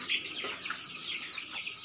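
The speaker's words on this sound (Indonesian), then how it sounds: "di sore hari ini acaranya makanin ayam guys" Chickens cluck and chirp softly at feeding time in an afternoon yard, with several overlapping short calls at moderate distance and no talk.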